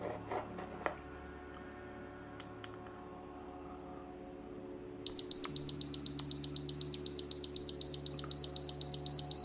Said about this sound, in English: Alarm beep after contact the wire.